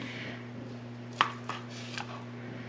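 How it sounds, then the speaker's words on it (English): A knife slices through a cooked pickle meatball on a board, giving one sharp tap followed by two softer cuts over a faint steady hum, with no talking. "I'm gonna actually cut this meatball"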